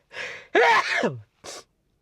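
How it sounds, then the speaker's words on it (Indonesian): A sneeze, starting with a sharp intake of breath, then a loud burst and a short trailing exhale, close by. "dan dikit-dikit ya ini bersin"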